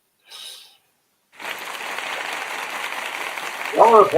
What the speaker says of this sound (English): Y'all applauding?